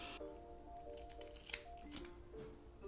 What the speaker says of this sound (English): So I'm going to go in with these crafts scissors and see what it does.